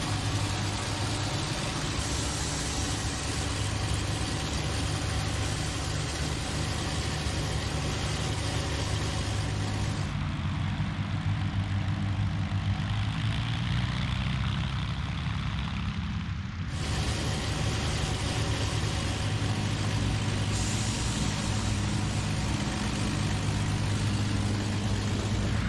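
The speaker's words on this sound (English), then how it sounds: "Moving out onto the runway, aligning the aircraft on the centre line and moving forward to make sure the tail wheel is straight" A four-engine Avro Lancaster piston bomber in a flight simulator game taxis onto the runway. A steady, droning engine rumble runs continuously throughout, briefly shifting in tone midway before resuming, with no talk.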